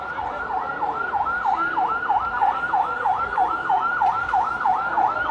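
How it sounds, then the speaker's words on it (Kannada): Ambulance siren wailing on a crowded city street during a New Year celebration in Bengaluru, a steady repeating up-down yelp cycling about every third of a second, loud and close, over dense crowd noise, with no talk. "ಆಂಬುಲೆನ್ಸ್ ಬೇರೆ ಮುಂದೈತೆ"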